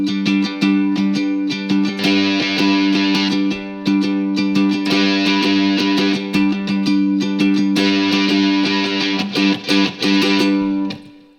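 A ukulele is strummed through a Plumes overdrive pedal, with a momentary switch stepping the distortion on and off. Loud, buzzing chords ring steadily, with grittier bursts surging in and dropping out in turn, and no voices.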